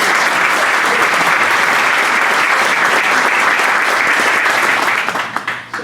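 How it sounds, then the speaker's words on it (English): Sustained applause from a Rotary club meeting audience honoring a guest speaker, a dense, even wash of many hands clapping that holds steady for about five seconds before thinning out at the end. "And let's give her a round of applause."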